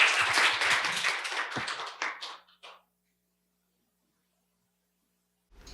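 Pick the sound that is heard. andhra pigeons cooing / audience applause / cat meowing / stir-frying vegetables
audience applause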